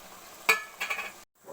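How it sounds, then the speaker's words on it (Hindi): Chopped onion, ginger and garlic stirred in a pan for Kashmiri pumpkin shab-deig, giving a few short scraping, sizzling strokes followed by a brief silence and a softer scrape. "अब इसके साथ मिक्स कर रहा हूँ।"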